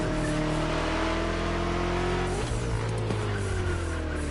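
A BMW car engine in a racing game drones at steady high revs, then shifts and the pitch drops before climbing again, with road and tire noise underneath.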